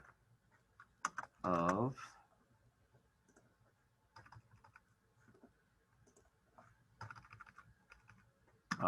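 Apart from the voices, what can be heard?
typing on a computer keyboard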